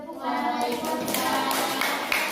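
A class of children clapping hands together in a classroom, a dense, continuous patter of many claps with light chatter mixed in, steady and fairly close throughout.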